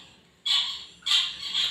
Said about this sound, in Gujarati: મિત્રો તમને પક્ષીઓનો અવાજ આવે છે?